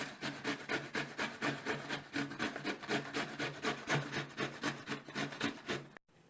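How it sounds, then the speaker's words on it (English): Bottle gourd (dudhi, lauki) being grated on the large holes of a hand grater, giving a steady run of rhythmic rasping strokes, close and fairly loud, that stops abruptly near the end. "I've grated the Dudhi or Lauki"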